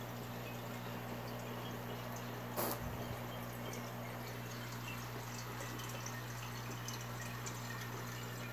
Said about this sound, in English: I have this little spout that allow me to do exactly that. Drain some of this water.